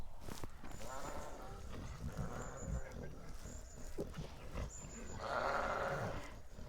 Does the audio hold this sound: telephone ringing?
no